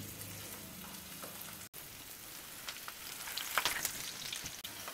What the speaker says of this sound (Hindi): तेल गर्म हो चुका है, इसमें अपने झूरी को तल लेंगे।